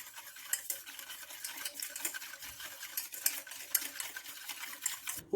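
Milk, starch and sugar stirred in a pot with a utensil, a soft, continuous scraping and swishing close by with light taps against the pot.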